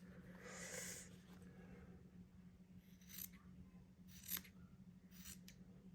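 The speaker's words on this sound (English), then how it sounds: "I will now trim the hair." Scissors snip the yarn mane of a crocheted amigurumi zebra, making a few faint, quick cuts at scattered moments over a quiet room with a low steady hum.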